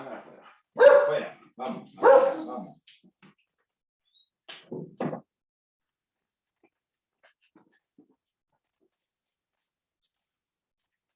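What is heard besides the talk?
dogs barking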